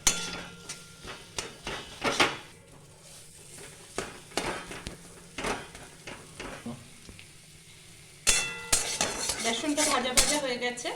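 Gram flour is stir-fried with spices and oil in a pan, heard as repeated sharp metal spatula scrapes and clanks against the pan over a soft sizzle, louder and busier toward the end.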